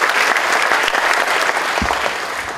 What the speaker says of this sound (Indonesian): Nala-nala mudanya tepuk tangan tadi.